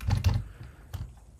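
Typing on a computer keyboard: a brief cluster of soft, close key clicks followed by one more isolated tap, with no talking.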